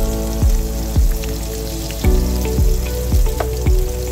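Onions frying with salt in hot oil in a home kitchen, a steady crackling sizzle broken by about six sharp clattering scrapes of a spatula against the pan, loud and close with no one speaking.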